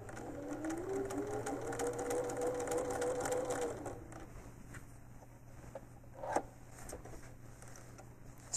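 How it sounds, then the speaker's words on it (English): Quilting sewing machine, an APQS longarm, stitching binding onto a quilt, a steady close mechanical whir for about four seconds before stopping, followed by quiet room tone and a single soft knock. "let's sew that along here, see how we come out"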